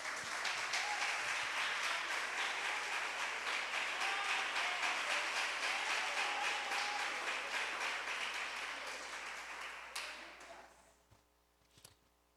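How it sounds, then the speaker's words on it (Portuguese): A church congregation applauds during a sermon, sustained full clapping for about ten seconds before thinning out and fading to a few scattered claps. "aplauda Jesus."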